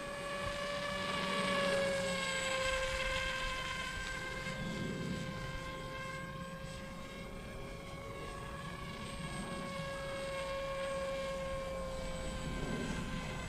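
A Blitz Works Super Sky Surfer RC foam airplane drones steadily overhead, its electric motor and propeller giving a continuous whine that swells and fades slightly as it passes at moderate distance outdoors.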